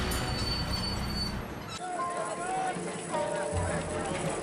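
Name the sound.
tram running on rails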